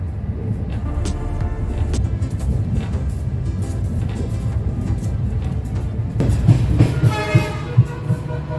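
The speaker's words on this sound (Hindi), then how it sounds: "हमारी ट्रेन पहुँच रही है अलीपुर द्वार।" A tourist train with Vistadome coaches rolls into Alipurduar station, a loud steady rumble of wheels on rails with clanking and rattling that swells in the last couple of seconds, and no talk.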